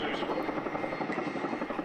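A military helicopter's steady, droning rotor noise fills the short stretch at moderate distance during an airshow flying display, with no break in the sound.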